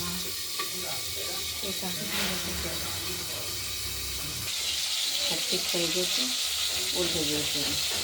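Oil sizzling steadily in a pan as aair fish fry, with occasional clinks and a voice speaking faintly in the background.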